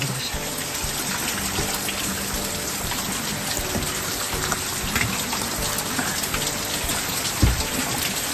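Steady rain falls near Lake Suwa in Japan, a dense, close patter and hiss that continues without pause, with a few louder drips and splashes standing out and faint voices underneath.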